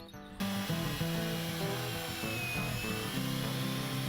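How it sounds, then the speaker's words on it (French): A power drill drives screws into dead wood, a steady loud whining motor hum with shifting pitch that runs almost throughout after a brief quiet start, close and unaccompanied by talk. "Quelques coups de perceuse, des vis pour fixer l'ensemble du bois mort"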